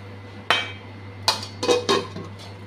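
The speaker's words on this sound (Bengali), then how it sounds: "এখন ঢাকা দিয়ে রাখবো।" A lid clanks down over a pot of hilsa fish-head and mukhi kochu (taro) curry: one sharp metallic knock, then a cluster of three quicker clinks as it settles, close and distinct with no voices.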